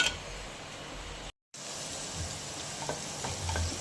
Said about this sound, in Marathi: लसण टाकून घेणार. फ्राय करून घेणार लसणाला.